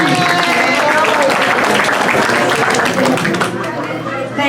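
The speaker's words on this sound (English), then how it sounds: "George and Joanna, just come out here to take a round of applause." A crowd at a philanthropic family evening applauds a couple with loud, sustained clapping mixed with chatter that carries on throughout and eases slightly toward the end.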